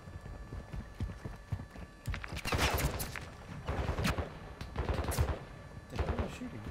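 Video game gunfire sounds as a series of sharp cracks and short bursts, some close and some distant, scattered over a busy low background of rhythmic thuds.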